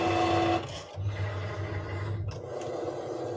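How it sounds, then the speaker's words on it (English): A cutting machine hums and whirs steadily as it cuts a large square out of material; it starts with a brief tonal beep and has faint scraping passes. "The machine will now proceed to cut out the large square within the material."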